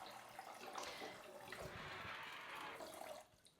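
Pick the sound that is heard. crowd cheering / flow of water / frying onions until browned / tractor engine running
flow of water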